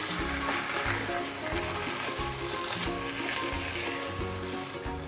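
Ginger garlic paste is mixed into chicken in a hot pan, with a steady, close sizzle and stirring throughout.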